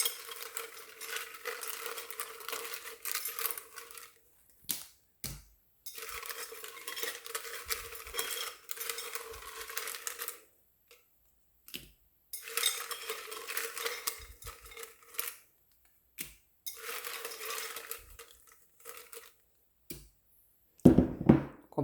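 Small paper cards being shuffled and mixed by hand: several bursts of soft, rapid riffling and rustling, each lasting a couple of seconds, separated by quiet gaps and light taps, close and fairly faint.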